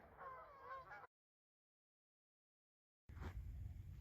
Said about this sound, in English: We have a whole bunch of these Canadian geese here that are migrating south.